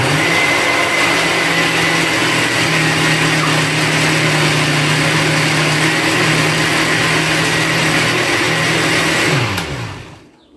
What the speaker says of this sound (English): I'm just going to continue to blend until all of my tomatoes are blended